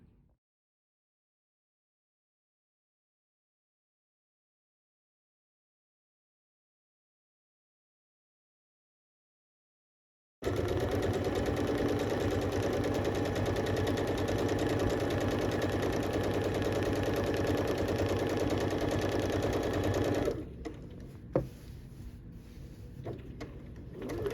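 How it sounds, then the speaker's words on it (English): A sewing machine runs steadily while stitching down the full length of a quilt-back fabric, a continuous close mechanical whir that starts after a long silence and then stops near the end, followed by a few faint handling sounds. "So go ahead and sew all the way down the length of your fabric"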